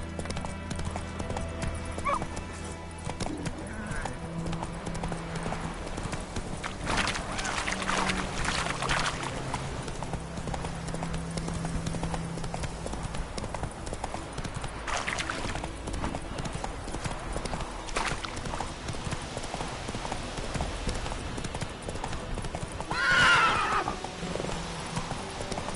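Roach, the horse in the video game The Witcher 3, gallops in a steady clip-clop of hooves under ambient game music, with a whinny near the end and some talk over it.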